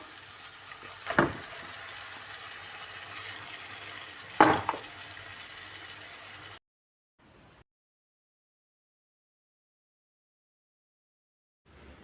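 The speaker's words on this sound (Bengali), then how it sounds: "সারাক্ষণ নেড়ে চেড়ে ভুনে নিতে হবে তা না হলে লেগে যাবে" Blended taro (kochu) paste with spices fries and is stirred in a pan, a soft steady sizzle broken by two sharp scraping stirs, before the sound drops to near silence.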